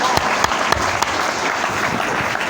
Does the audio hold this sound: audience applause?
yes